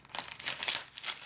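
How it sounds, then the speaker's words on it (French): Advent calendar packaging torn open by hand, a short close burst of crinkling and ripping paper or plastic lasting about a second. "On déchire."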